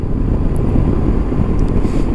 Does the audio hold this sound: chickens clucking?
no